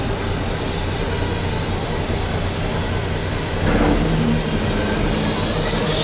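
Engines of a subsea trencher machine running, a constant dense mechanical roar that swells slightly louder partway through, close and steady with no talk.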